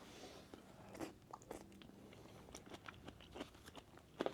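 Onion pieces in a Japanese beef bowl are bitten and chewed, a series of soft close crunches and chews with quiet gaps, faint and alone.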